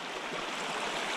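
Water rushing steadily through a tiny, shallow creek during fly fishing, heard as a continuous close hiss and gurgle with no talking.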